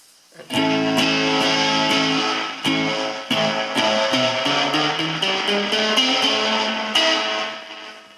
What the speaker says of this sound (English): now I'm gonna turn the reverb volume up